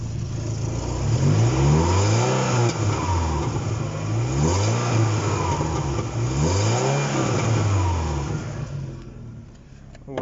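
A Peugeot 406 coupe with a 2-litre engine, warmed up, is revved repeatedly in slow swells, each rise and fall of engine pitch close and loud, with the raspy note of an exhaust leak.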